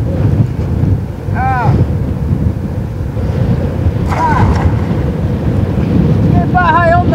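Strong wind buffets the microphone in heavy, continuous gusts while people fish for tilapia from a boat on open water, casting nets. A few brief voice-like calls rise over the roaring rush.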